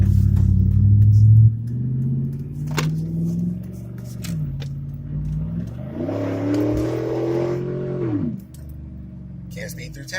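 A car pulls away and drives through a town, its mid-pitched engine rumbling and rising as it accelerates, then easing off, heard steadily from inside the vehicle.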